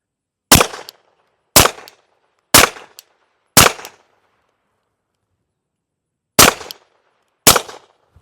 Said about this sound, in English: we're going to shoot a few more rounds